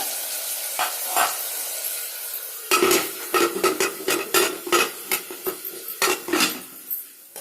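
Onions and green chillies frying in a pan on low heat, with a steady sizzle under a run of quick scraping and stirring strokes and utensil clinks against the pan, busier in the second half.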